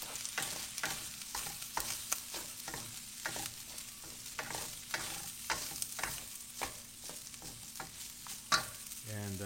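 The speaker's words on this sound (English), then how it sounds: "Mix them together." Food being stir-fried with Kikkoman sauce in a pan, a steady close sizzle broken by repeated scraping stirs and clinks at an uneven rhythm.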